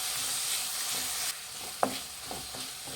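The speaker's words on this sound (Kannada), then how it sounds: "ಈರುಳ್ಳಿ ಹಾಕ್ತಿದ್ದಂಗೆ ಬಟಾಣಿ ಹಾಕ್ಕೊಳ್ಳಿ, ಮಿಕ್ಸ್ ಮಾಡಿ." Onions and peas being stirred and fried in a pan for tomato rice bath, a loud sizzle that drops suddenly partway through, followed by a sharp clink of the spoon and softer scraping stirs.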